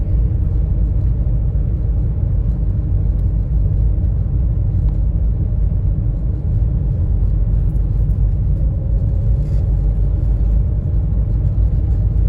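A Renault 12 TSW Toros station wagon cruises on a highway near toll booths, its engine and road noise forming a steady, loud, low rumble heard from inside the cabin with no breaks.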